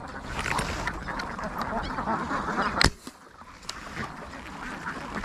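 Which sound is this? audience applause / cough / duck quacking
duck quacking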